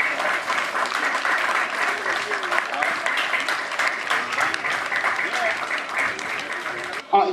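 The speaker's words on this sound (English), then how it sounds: "Please give a rousing welcome and round of applause for Ms. Sheena Gooding." An audience at an inter-house track and field championship ceremony claps steadily in a dense, sustained round of applause that fills the space and holds at an even level before cutting off.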